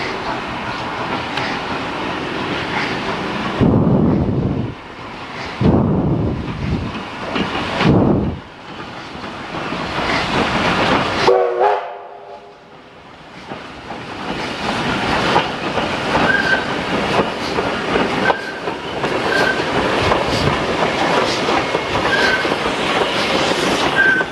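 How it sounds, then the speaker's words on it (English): A steam train full of tourists rumbles and clatters past on the Mornington Tourist Railway, loud and close, wheels clacking rhythmically with brief squeals and hissing bursts as it pulls away. "Another steam train is now leaving, filled with tourists"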